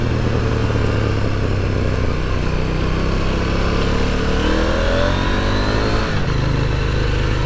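A KTM 890 Duke R motorcycle engine burbles steadily and close by, with rising rev sweeps and a brief dip near the end, loud and continuous with no talking.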